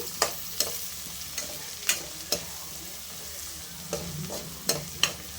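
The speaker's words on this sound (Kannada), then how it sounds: "ಬೆಳ್ಳುಳ್ಳಿ ಸ್ವಲ್ಪ ಫ್ರೈ ಆಗಲಿ." Chopped garlic fries in a pan for mutton gravy, a low steady sizzle broken by a series of irregular sharp spoon scrapes and taps against the pan, close and clear with no talking.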